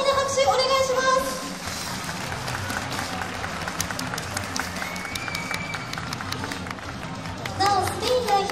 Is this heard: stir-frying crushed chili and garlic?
no